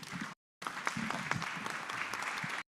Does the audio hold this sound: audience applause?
yes